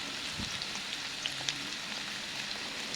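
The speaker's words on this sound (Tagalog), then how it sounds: "Ipiprito ko lang yan hanggang maging golden brown." Onions fry in a pan, heading toward golden brown, with a soft, continuous hiss and faint scattered pops and crackles, fairly quiet and unbroken by talk.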